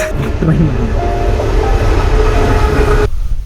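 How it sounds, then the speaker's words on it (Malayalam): A train rumbles steadily past at close range, loud and continuous, then the sound cuts off abruptly near the end. "ട്രെയിൻ വരുന്നുണ്ട്"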